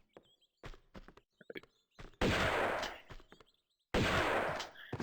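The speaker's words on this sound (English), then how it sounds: "Let's go ahead and shoot him up and pick up the shotgun shells he drops." Shotgun blasts from the video game Tomb Raider 2, in Bartoli's Hideout: two loud, sustained booming bursts with echoing tails, separated by a pause and mixed with footsteps and short thuds.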